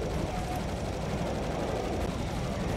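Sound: gunfire in video game Serious Sam 2

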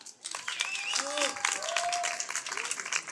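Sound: applause

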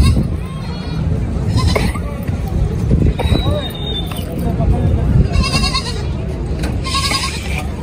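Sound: goats bleating at livestock market

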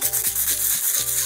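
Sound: sanding the back of a clear plastic sheet with a file

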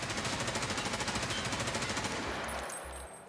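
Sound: automatic M4A1 or AKM rifle fire in Escape from Tarkov video game

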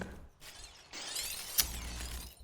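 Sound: glass window being smashed

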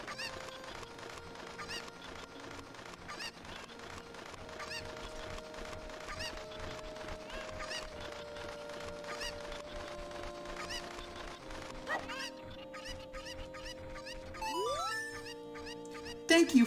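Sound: Cucco chickens clucking in Ocarina of Time video game

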